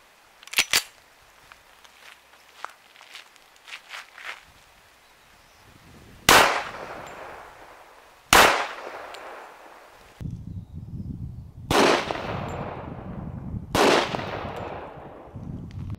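.45 ACP 230 grain FMJ rounds are fired outdoors into a snow pile, four loud, sharp reports spaced about two seconds apart after quieter clicks and handling sounds at the start.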